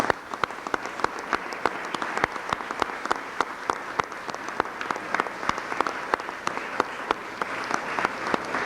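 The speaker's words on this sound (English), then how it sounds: "So give them all a big round of applause" Sustained audience applause in a room at a 1999 public event unveiling a city program, dense steady clapping from many hands continuing evenly throughout with faint murmuring underneath.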